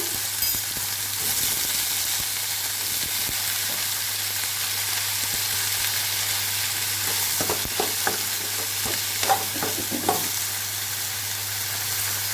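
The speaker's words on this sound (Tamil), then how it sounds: "அரிஞ்சு வச்ச கத்திரிக்காயை போட்டுக்கலாங்க" Chopped eggplant hits hot oil in a pan for sambar, giving a steady, continuous sizzle and frying hiss with a few stirring scrapes near the end and no talking.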